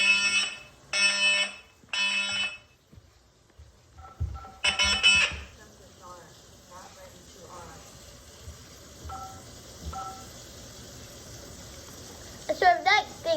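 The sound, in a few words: smoke alarm going off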